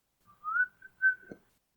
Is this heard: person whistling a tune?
yes